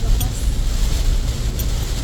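Strong typhoon wind blowing in a continuous, heavy low roar, close and loud, with faint brief higher bursts of gusting over the steady rumble.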